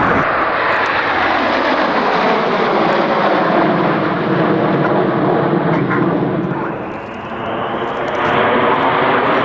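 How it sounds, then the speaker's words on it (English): An Avro Lancaster bomber flies over the Cosford airshow, its piston engines producing a loud, sustained, rumbling drone that dips briefly and then swells again as it passes close overhead. "This is Lancaster."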